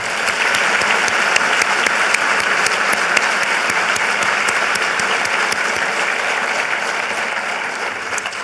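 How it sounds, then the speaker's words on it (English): Sustained applause from a college commencement audience greeting the platform party, a loud, even wash of many hands clapping for over eight seconds without a break. "A round of applause, please, for our platform party."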